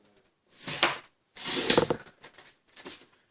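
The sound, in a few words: paper trimmer cutting card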